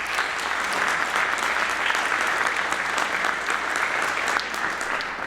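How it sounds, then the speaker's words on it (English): A legislative chamber audience breaks into dense, loud applause on opening day of the session, continuous clapping from many hands at close range with no talking over it. "Give yourself a round of applause."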